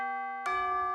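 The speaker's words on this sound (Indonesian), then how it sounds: "Bentar lagi bel pasti bunyi." A school bell in the Sakura School Simulator game chimes with a steady two-tone ding-dong, a held note joined midway by a brighter, louder ring that carries on to the end.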